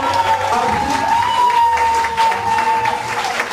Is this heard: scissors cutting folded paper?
no